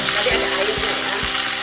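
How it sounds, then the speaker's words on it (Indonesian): Tofu sizzles loudly in hot oil, a dense continuous frying hiss with a few soft scrapes of stirring, heard close. "kita tumis tahunya sampai sedikit berkulit"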